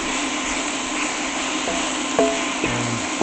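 Vegan Philly cheesesteak filling cooking down in a pan, a steady soft sizzle and hiss with a few light clinks of a utensil against the pan, no talking.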